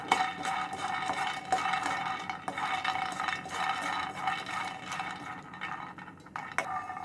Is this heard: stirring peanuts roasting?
yes